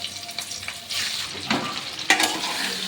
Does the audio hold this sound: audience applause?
no